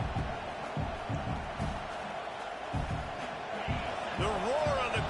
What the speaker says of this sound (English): The roar of the crowd trying to fuel this defense to keep them pinned in their own end.